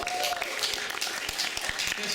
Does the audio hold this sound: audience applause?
yes